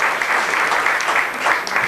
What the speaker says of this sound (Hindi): मैं चाहूंगा कि जोरदार तालियां उनके लिए बजाएं